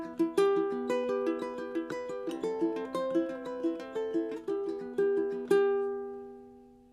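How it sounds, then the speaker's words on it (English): Low-G ukulele played fingerstyle on the opening of O Come, O Come, Emmanuel, a slow plucked melody over soft chords, close and clear, ending on a ringing note that fades out. "That's how to play the beginning of O Come, O Come, Emmanuel on the ukulele."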